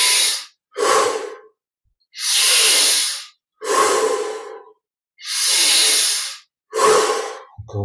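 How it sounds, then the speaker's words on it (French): Slow, deep human breathing during a guided breathing exercise: six long, loud, airy breaths alternating inhale and exhale, each lasting about a second, separated by brief silences, close to the microphone. "Encore 10 respirations, un peu plus d'air si on peut."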